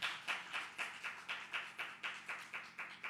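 A church congregation claps in praise, a steady rhythmic beat of about a dozen crisp, evenly spaced claps, fairly faint and with no talking.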